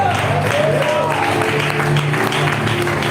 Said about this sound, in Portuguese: Manda palmas, enche o céu de glória.